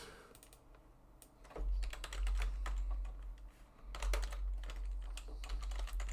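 Rapid typing on a computer keyboard during a coding session, close and steady with dense clustered keystroke bursts and a brief pause partway through, plus a low background hum.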